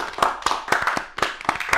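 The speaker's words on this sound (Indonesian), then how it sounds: "Kita kasih tepuk tangan gimana?" A few people clapping in honour of the Leverkusen team, close and uneven, about a dozen distinct claps in loose rhythm with no talking.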